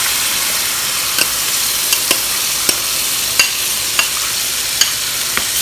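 Tomato paste and onion paste stirred in an oiled pan for a phool makhana curry: a steady close sizzle with sharp spoon scrapes every second or so.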